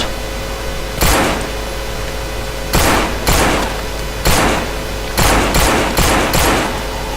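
Pistol fire from a Colt handgun in the zombie game No More Room in Hell, loud sharp shots spaced irregularly, single and in quick pairs, ringing out over steady background hum.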